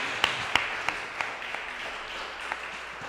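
Church congregation at a live worship service claps in a slow, rhythmic beat, soft and somewhat distant, over a low steady background.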